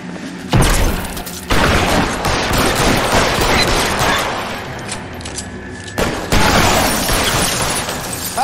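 Gunfire in L.A. Noire breaks out in heavy bursts of rapid shots, loud and close, with a brief lull before another fierce volley, mixed with booming impacts and mechanical clatter.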